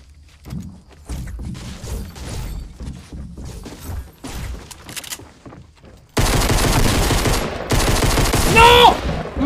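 Rapid automatic gunfire in the Fortnite video game: scattered shots first, then a dense, loud, continuous burst of fire in the second half.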